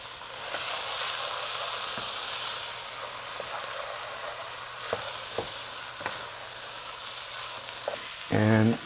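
Yellow split peas sizzling and frying in a pan for dolmeh, a steady soft crackle with occasional sharp taps of stirring and a louder clatter near the end.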